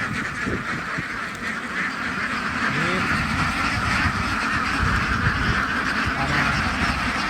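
A flock of laying ducks crosses a rural road, quacking continuously and loudly up close, with a person talking over the noise.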